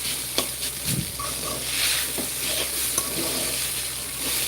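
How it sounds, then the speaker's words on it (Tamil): Dal fries with dried chillies and curry leaves in a pan, giving a steady close sizzle broken by a few scraping stirs and light clinks of the spoon, with no talk. "இந்த மாதிரி லைட்டாக கலந்து விட்டாலே போதும்"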